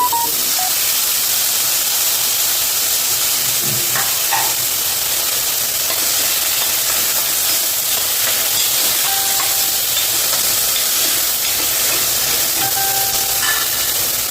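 Onion and tomato with mustard seeds and asafoetida sauté in a pan for a vegetable kuzhambu, giving a loud, steady hiss and sizzle throughout with occasional faint stirring clicks and no talking.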